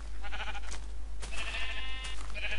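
Minecraft sheep bleat in a couple of clear, wavering cries close by, a short bleat followed by a longer drawn-out one, over a faint steady game background.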